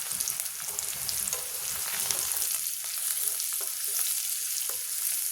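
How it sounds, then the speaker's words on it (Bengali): Onions frying in a pan with whole cumin seeds and salt, giving a dense continuous sizzle that stays fairly loud and close throughout, with faint stirring underneath and no speech. "এইবার পেঁয়াজটা ভাজা ভাজা হচ্ছে"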